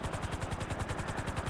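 Helicopter in GTA Online, a steady rapid rotor chop with regular pulsing beats, fairly close and continuous, no voices over it.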